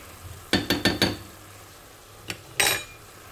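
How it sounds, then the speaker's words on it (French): A spoon clinks against a metal pot several times in quick succession while tandoori spice is mixed in, followed by a couple more scraping clinks, close and fairly loud. "Je mélange"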